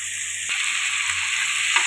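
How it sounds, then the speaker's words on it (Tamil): Steady, soft sizzling of onions sautéing in a pan for mutton curry, a continuous hiss with a faint high tone, no talking. "வெங்காயம் வதங்கிட்டே இருக்கு நல்லா"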